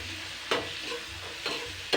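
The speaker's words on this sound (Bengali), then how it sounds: "এবার আমি এগুলোকে ভালো করে কষিয়ে নেবো জাস্ট 2 মিনিট মতন।" Spices with turmeric and sugar sauté in a pan under a soft steady sizzle, with three brief spatula scrapes spaced apart, close and fairly quiet.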